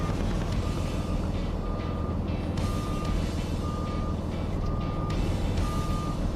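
A Peterbilt 536 truck reverses with its backup alarm sounding steady evenly spaced beeps over a loud, constant diesel idle rumble, with no talk.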